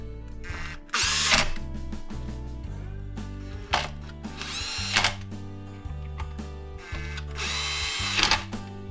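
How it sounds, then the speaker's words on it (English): An impact driver torques up screws on a saw's clutch cover during maintenance, firing in three separate loud, rattling bursts over a steady mechanical hum. No one speaks. "I'll come back with my impact and torque them up"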